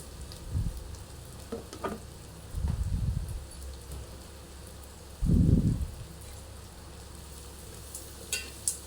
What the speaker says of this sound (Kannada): ಎಲ್ಲ ಮಿಕ್ಸ್ ಮಾಡಿ ಚೆನ್ನಾಗಿ ಫ್ರೈ ಮಾಡಬೇಕು ಇದನ್ನು.